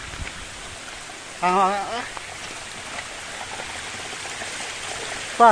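Stream water flows steadily on a monsoon trek to Dudhsagar waterfall, a constant broadband rush close by, with a voice briefly speaking over it.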